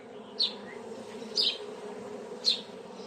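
Honeybees buzz around a newly hatched queen bee in a hive: a faint, steady hum with three brief, louder buzzing bursts as bees pass close.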